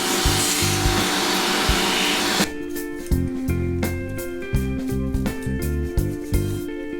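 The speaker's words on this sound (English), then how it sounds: "So I'll get my shop vac, we'll clean that out." A shop vac runs loud and steady while sucking leaves, dust and dirt out of the battery tray of a Jeep Wrangler JKU, with scraping and clattering debris knocking through the hose.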